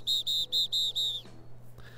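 A physics teacher in a zombie visual novel game blows a whistle hard: five sharp, shrill blasts in quick succession, loud and close, followed by a fainter trailing tone.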